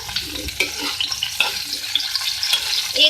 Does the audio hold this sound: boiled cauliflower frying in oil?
yes